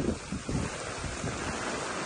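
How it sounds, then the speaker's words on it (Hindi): Strong hurricane wind in Florida roars against the microphone in a steady, dense rush with a few heavier gusts at the start, loud and close with no voices. "काफ़ी बर्स हो चुकी है इस वक्त और शदीद विंड है"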